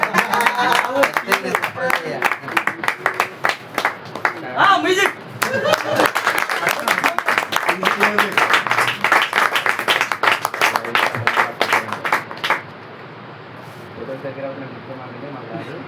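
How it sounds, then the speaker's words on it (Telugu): An audience claps continuously while a photo frame gift is opened at a child's first-rice ceremony and prayer meeting. A voice speaks over the applause, and the clapping stops sharply near the end, leaving quiet talk. "ఫోటో ఫ్రేమ్ ఓపెన్ చేస్తుండగా మనం చప్పట్లు పెడదాం."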